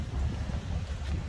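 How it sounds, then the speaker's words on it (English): Strong wind gusting at Virginia Beach in Durban, KwaZulu-Natal, buffeting the microphone with a steady low rumble and no one speaking. "It's a little bit windy"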